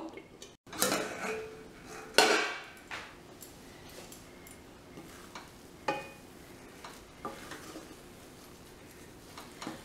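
A metal lid clanks onto a pot of cooking rice upma, followed by several lighter clinks and taps of cookware against a soft bubbling background.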